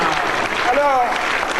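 A TV studio audience applauds on a 1992 French talk show, a steady, dense wash of clapping, with a brief voice-like tone rising over it midway.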